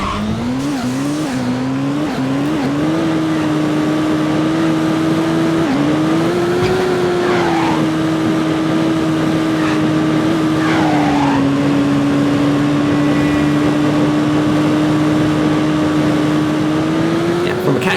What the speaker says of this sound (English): So there's the slipstream turbo.